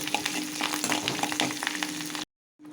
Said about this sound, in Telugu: ఇవి బాగా వేగాక మనము తయారు చేసి పెట్టుకున్న మిశ్రమాన్ని ఇందులో వేసేసుకుందాం.